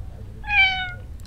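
A single stray cat meows once in a video game, a clear, drawn-out mew that rises and fades over about half a second against a quiet low hum.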